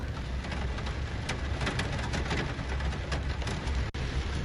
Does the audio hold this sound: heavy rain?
yes